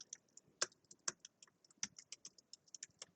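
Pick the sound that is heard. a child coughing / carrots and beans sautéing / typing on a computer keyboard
typing on a computer keyboard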